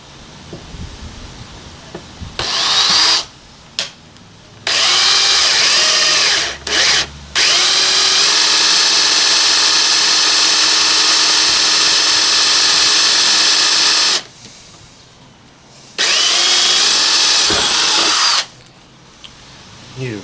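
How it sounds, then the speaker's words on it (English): A power jigsaw cuts a speaker hole in a scratch-built Gauntlet arcade cabinet panel, running in loud, close, harsh bursts: short starts, then a long sustained cut, a pause and another burst. "we can put our jigsaw around this and just cut this hole"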